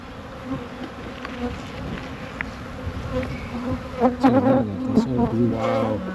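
Honey bees drone and buzz continuously around an opened hive frame with a laying queen, close and loud, while people talk over the swarm toward the end.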